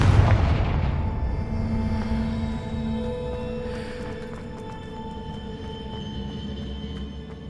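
Confringo fire-blast spell explosions in Hogwarts Legacy, a loud deep boom at the start that rolls off into a long rumbling decay with faint crackling debris, no talk over it.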